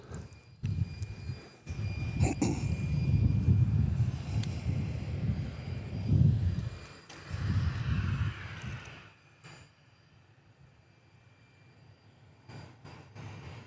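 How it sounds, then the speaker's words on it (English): A Boeing 737 airliner landing at Nashville International, with a loud engine roar that swells and rumbles for several seconds, then fades to a faint distant hum. "WN2384 coming in from Myrtle's Beach in a Boeing 737"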